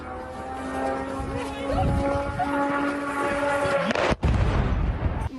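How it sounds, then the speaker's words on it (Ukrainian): A Shahed drone's droning, buzzing engine hums overhead with a steady pitch during a night attack, then a sudden loud blast cuts through, followed by rumbling noise. "чути пронизливий звук двигуна шахеда і вибух"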